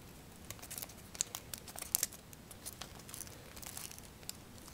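Paper being folded into an origami crane, with soft crinkles, creases and light taps spread across the moment, quiet and close with no talking.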